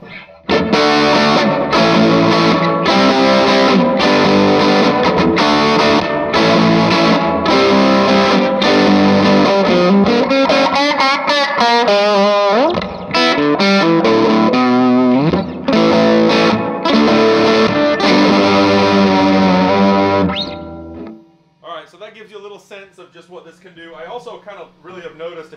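Electric guitar played through a Tweedle Dee Deluxe tube amp with a crunchy, distorted overdrive tone, loud and continuous strummed chords with brief gaps, easing into quieter picking near the end while a voice speaks.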